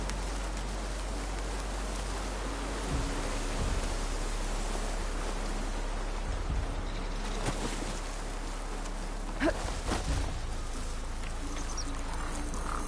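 Rain in Horizon Forbidden West falls as a steady, broad hiss, fairly faint and unbroken throughout, with a few brief thuds and scrapes cutting through now and then.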